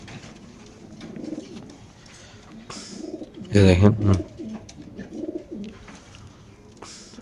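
Racing pigeons, club-registered hens offered by a pigeon seller, give a short, loud burst of cooing in the middle, close by, while people talk before and after it.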